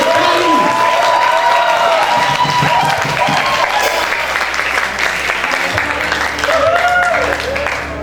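Sustained applause from a theatre audience at the end of a stage performance, loud and dense throughout, with some cheering and voices mixed in.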